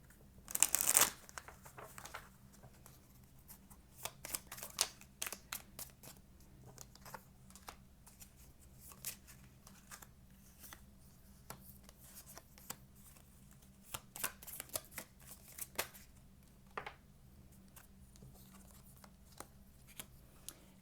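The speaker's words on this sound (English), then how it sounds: "One more shuffle." A tarot deck being shuffled, quiet crisp flicking and riffling of cards in bursts, with a louder burst at the start and scattered soft taps and slides throughout.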